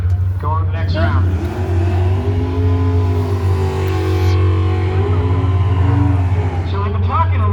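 Drag racing cars at the Brainerd drag races in Minnesota hold a deep, steady engine drone, loud and constant beneath someone talking throughout.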